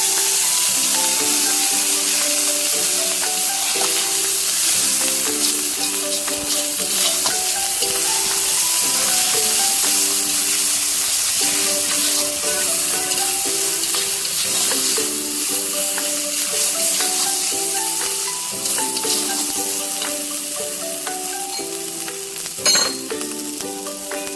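A turmeric spice paste fries hard in hot oil for a fish curry with bottle gourd and potato, giving a loud, constant close sizzle that runs the whole time with a melodic tune playing underneath.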